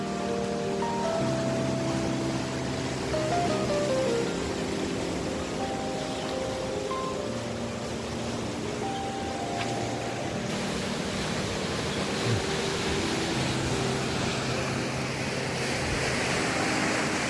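Water rushing forcefully below the forebay dam near Pushpa bridge, a continuous loud roar of churning flow with wind buffeting the microphone, while tonal music plays over it throughout.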